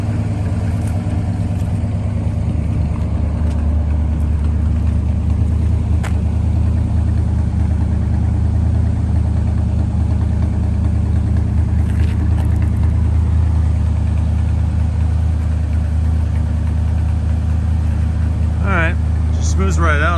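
A 1969 Chrysler Town and Country wagon engine idles after a cold start, a loud, unbroken low rumble that runs evenly through the whole stretch with only faint incidental sounds on top.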